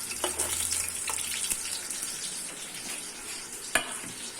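Chopped onions fry in the rendered fat and oil of a beef trotters (paya) pot, giving a soft continuous sizzle with light stirring and one sharper clink near the end.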